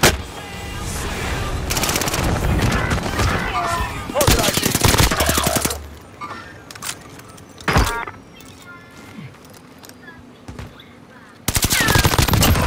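Rapid automatic gunfire rattles in bursts through a Call of Duty: Modern Warfare multiplayer match, loud and close, broken by pauses, isolated single shots and game voice callouts.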